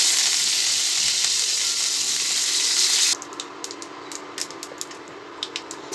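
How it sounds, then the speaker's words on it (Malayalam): Mustard seeds and curry leaves sizzle steadily in hot oil for about three seconds, then the hiss drops away and only scattered small crackles and pops remain. "കുറച്ച് കടുക് ഇട്ടെടുക്കാം, കുറച്ച് കറിവേപ്പില ഇട്ട് കൊടുക്കാം"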